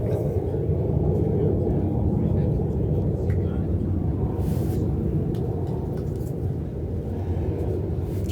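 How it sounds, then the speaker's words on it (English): An aircraft flies over an outdoor lawn bowls pairs tournament, a loud, steady low rumble that holds throughout, with faint distant voices beneath it. "I'm going to wait for the flyover to finish before we get into this tale."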